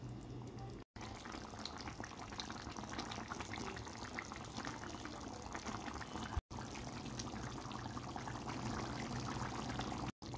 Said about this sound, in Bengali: অ্যাড করলাম কিছুটা পরিমাণ গরম পানি।